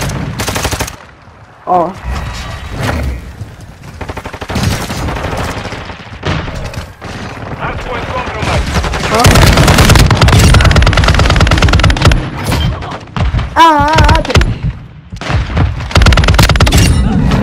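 Gunfire echoes through a first-person shooter match, with bursts of rapid shots and single sharp cracks from a sniper rifle and other weapons, loud and dense throughout. Brief player voices come through in places.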